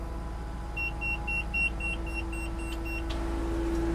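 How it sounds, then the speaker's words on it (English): An old log skidder just switched on gives a steady string of about ten evenly spaced electronic beeps over a low idle hum, with a faint steady tone running underneath. "Fire it up. Let's see what happens. I hear it beeping."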